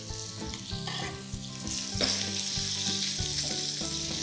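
Steak sizzles in a hot pan for a steak salad, with a steady, close, loud frying hiss that carries on without pause and no voices.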